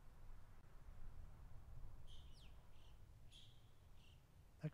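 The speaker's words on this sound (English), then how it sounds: "Can you hear that chirping?" Bird chirping in the hunting game theHunter Classic, a few faint, thin high chirps spread over a quiet outdoor ambience, heard alone.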